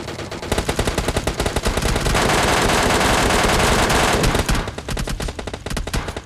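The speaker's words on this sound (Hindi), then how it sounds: "कुछ बंदे डीपी से मार रहे थे इस बंदे को।" Rapid bursts of DP-28 machine gun fire in PUBG Mobile Lite crackle loudly and close, a dense sustained stream in the middle with choppier, stuttering shots before and after.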